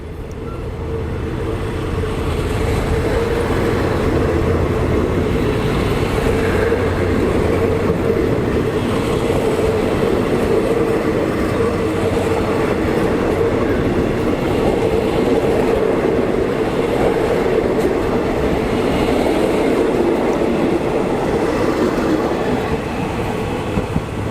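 Train at Muak Lek railway station in Thailand, hauled by locomotive QSY 5229, gives a steady, loud rumble of engine and rolling wagons that holds throughout with no talk.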